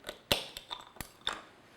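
A knife cuts into a crisp, hard-shelled red velvet cake pop, making a few quiet, sharp crunches and clicks spaced irregularly.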